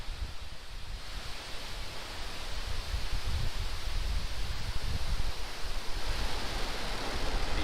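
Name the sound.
SpaceX Falcon rocket engines roaring after liftoff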